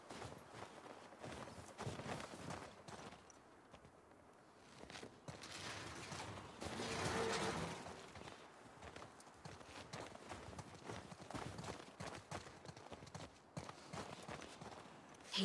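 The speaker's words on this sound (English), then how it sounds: "Oh, this isn't my horse." Horse hooves clip-clop steadily and close by in The Last of Us Part II, over a background of faint creaks and rustling movement.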